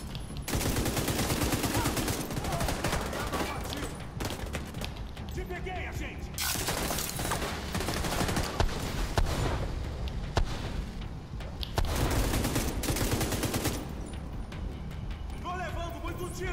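Gunfire in the shooter video game Tom Clancy's The Division 2: dense, continuous bursts of automatic fire with crackling impacts, loud throughout and under excited shouting from a player.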